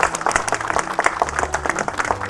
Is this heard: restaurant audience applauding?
yes